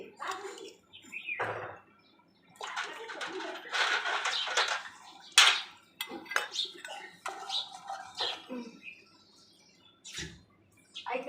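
Utensils used for the deity's puja are washed with water, scattered clinks and clatters of metal pots and bowls with splashes in a quiet room, intermittent and close.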